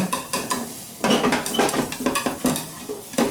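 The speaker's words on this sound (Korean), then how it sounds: "당근이 어느 정도 익고 한번 뒤집은 다음에 이렇게 대파를 넣으셔서 이렇게 같이 구워주시면 됩니다" Sliced carrots, radish and green onion sizzle in a pan while utensils clatter and scrape against it in irregular bursts, close up and fairly loud, with no talking.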